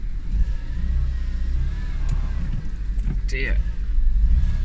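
A Peugeot 207 engine runs with a low, rough, continuous rumble and smoke pouring out behind, close by, with a voice speaking briefly over it.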